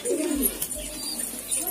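Racing pigeons coo softly in a loft in Hosur, a low murmuring call with faint chirps above steady background noise.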